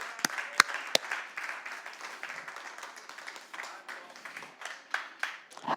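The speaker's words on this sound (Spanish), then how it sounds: "Denle un aplauso al Señor, claro que sí." Steady applause from a church congregation, a dense crackle of many hands clapping with a few sharper claps standing out and some voices mixed in.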